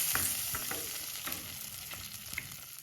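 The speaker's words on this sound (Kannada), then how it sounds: "ಇದು ಒಗ್ಗರಣೆ ಸುರಿಬಿಡು." Hot oil tempering being poured over spiced buttermilk (majjige) in a home kitchen, giving a sizzling hiss with scattered crackles and pops, close and steady, no voices.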